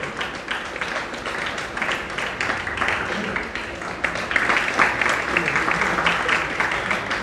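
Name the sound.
audience applauding at a math event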